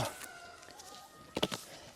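Soft, faint clucking of a few chickens nearby, with a short burst of louder clucks toward the end.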